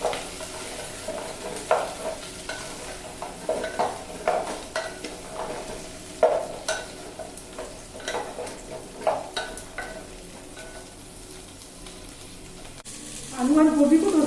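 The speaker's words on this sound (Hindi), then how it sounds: "मीडियम फ्लेम में आलू को फ्राई करेंगे प्याज के साथ।" Potatoes frying over a medium flame with onion, then cauliflower, in a pot for veg pulao: a low continuous sizzle under repeated scraping stir strokes, close by, with a louder clatter at the end.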